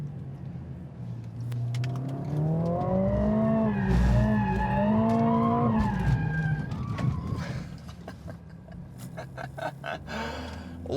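A Mercedes-AMG A45 drifts on a race track, its tyres squealing in long wavering skids over the engine's rising and falling roar, followed by a burst of rough scrabbling tyre noise.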